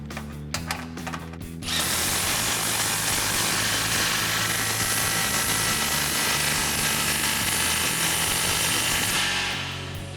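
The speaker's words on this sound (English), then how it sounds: "Now we can tighten down our clamp with a 15mm." Ratchet with a 15mm socket tightening an exhaust clamp on a RAM 2500 6.4L, a steady dense mechanical clicking running near and loud for about eight seconds after a brief bit of quieter handling.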